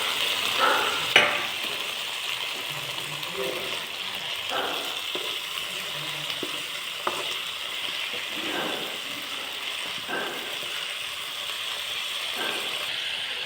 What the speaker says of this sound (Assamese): তাৰপিছতে মই কাটি থোৱা ব্ৰকলি আৰু আলুখিনি দি দিলোঁ।